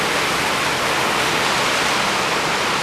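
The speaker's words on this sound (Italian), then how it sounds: "era tanto che non sentivamo il rumore della pioggia sul tetto" Heavy rain falls steadily on a roof during a thunderstorm, a dense, even hiss that is loud and unbroken throughout, with no voices.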